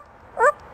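A parrot imitating a dog gives a single short, whimpering yip-like bark, brief and fairly clear against a quiet room.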